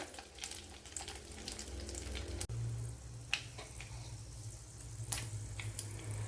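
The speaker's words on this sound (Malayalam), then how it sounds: "ഇവിടെ കടുക് ഉലുവയൊക്കെ മൂത്ത് വന്നിട്ടുണ്ട്." Mustard seeds and fenugreek crackle and splutter steadily in hot oil while making an Indian gooseberry pickle, a dense close-up sizzle with occasional sharper pops.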